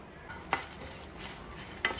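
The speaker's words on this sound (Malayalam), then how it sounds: "അതിലേക്ക് ഒരു സ്വല്പം വെളിച്ചെണ്ണ ഒഴിച്ചു കൊടുക്കാം ഒരുപാടൊന്നും വേണ്ട ഒരു ശകലം മതി നമുക്ക് മുളക് ഇട്ട് കൊടുക്കാം" Dried red chilies fry quietly in a little coconut oil in a pan with a soft, steady sizzle, broken by two short scraping stirs.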